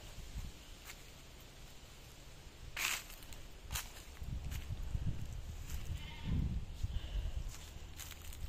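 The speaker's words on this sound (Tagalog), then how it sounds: "Kambing." Goats bleat several times at a distance over rustling and faint footsteps outdoors, with a few soft clicks and scuffs nearby.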